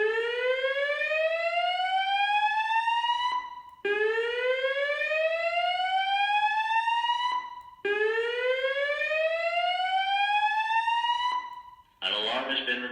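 A building fire alarm sounds three long rising whoops, loud and steady with short gaps between them, and a burst of harsh noise follows at the end.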